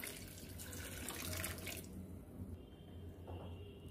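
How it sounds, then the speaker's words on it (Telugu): Water is poured into a pressure cooker pot over black-eyed peas, a steady rushing splash that stops about halfway through, leaving quieter trickles and faint drips. "మనకి ఈ అలసందలు మునిగేంత వరకు నీళ్ళు పోసుకుంటే చాలు"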